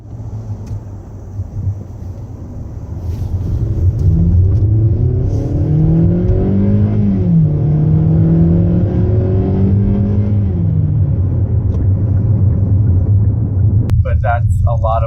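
The 4-cylinder engine of a 2018 Hyundai Santa Fe Sport revs up, a droning rumble climbing and falling in pitch through several sweeps before settling, loud and close, with someone speaking at the very end.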